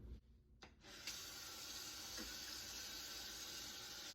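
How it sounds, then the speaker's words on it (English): Cold tap water runs steadily into a kitchen sink to fill an ice bath for cooling boiled eggs, a continuous close splashing rush that starts after a brief quiet moment and holds without talk. "we gotta get our ice bath ready. So we're gonna put cold water in here"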